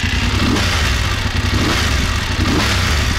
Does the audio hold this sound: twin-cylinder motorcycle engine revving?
yes